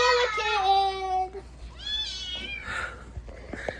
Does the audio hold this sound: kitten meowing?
yes